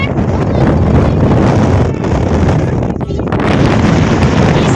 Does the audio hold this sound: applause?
no